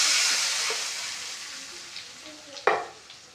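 Liquid made from four dissolved tomatoes hits a hot pan for pepper rasam, a loud hiss that fades gradually, with a few stirring clinks and one sharp knock near the end.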